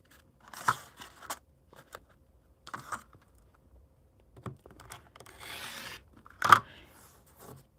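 Fabric quilt blocks are trimmed on a cutting mat in short, separate cutting and crunching bursts with quiet gaps between them, close by and with no talking.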